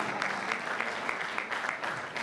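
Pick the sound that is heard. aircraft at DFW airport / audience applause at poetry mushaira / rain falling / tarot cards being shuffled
audience applause at poetry mushaira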